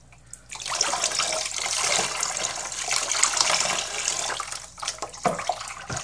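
Water pours steadily from a tap while hair is being rinsed, a loud continuous splashing rush that begins just after the start and breaks up near the end.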